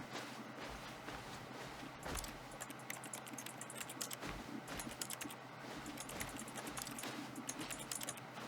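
Keyboard typing from The Stanley Parable video game, a steady stream of rapid clicking keystrokes with brief louder bursts, close and continuous throughout, with no voices.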